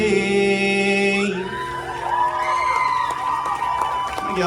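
A rowdy concert crowd at the York State Fair in Pennsylvania cheers and whoops as a song's final chord fades, with scattered shouts and applause building around a nearby voice.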